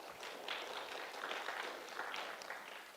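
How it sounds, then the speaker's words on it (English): An audience at the Frappeverse Africa 2025 tech conference gives a round of applause, steady soft clapping from a crowd heard at a distance and fairly quiet for three seconds. "So a round of applause."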